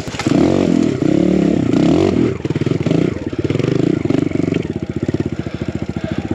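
A BBR KLX170RF dirt bike revs and rides close by in a loud, steady engine drone that rises and falls with the throttle. Toward the end the firing pulses grow distinct and rhythmic.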